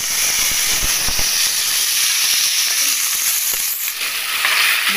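Pieces of spiny gourd (akakarakaya) hit hot tempering in a pan and sizzle loudly and continuously up close, with scattered crackles and pops over a steady frying hiss.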